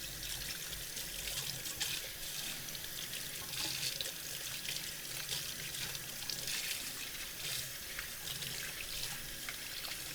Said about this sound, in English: I'm going to just rinse off the silicone whisk that we used earlier.